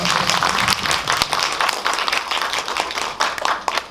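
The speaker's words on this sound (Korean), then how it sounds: "배우님께 또 박수 한번 부탁드릴게요" Audience applause greets an actress during a film talk event for the movie Dream Palace, a lively, dense burst of many hands clapping that stays loud throughout with some sharper individual claps.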